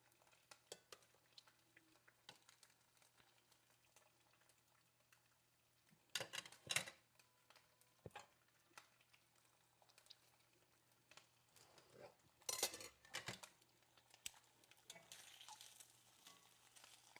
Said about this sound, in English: I'm sure you can hear that cooking.